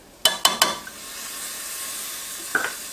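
Minced garlic hitting a hot pan of browned rice for Spanish rice: three quick clanks of a utensil on the pan, then a steady soft sizzle, with a couple more light taps near the end.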